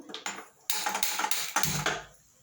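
A metal pot set down on a stove while making dudh peda, giving a few close, bright clanks and scrapes of metal on metal that end in a short ringing decay.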